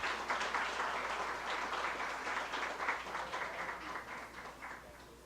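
A formal solemn session audience applauds an honoree, a broad wash of many hands clapping at moderate distance, fairly quiet and steady, slowly tapering off toward the end.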